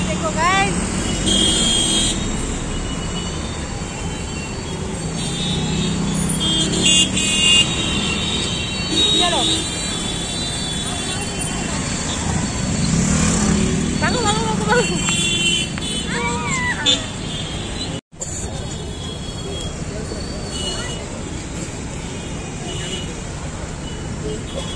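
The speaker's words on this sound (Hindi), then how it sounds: "माय गॉड ट्रैफिक, बेंगलुरु की ट्रैफिक देखो गाइस।" Busy road traffic in Bangalore fills a market street with constant engine rumble, passing vehicles and scattered horn toots, with people talking nearby throughout.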